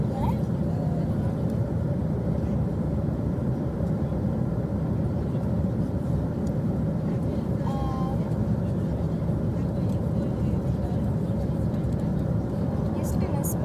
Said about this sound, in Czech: Takže jsem v letadle.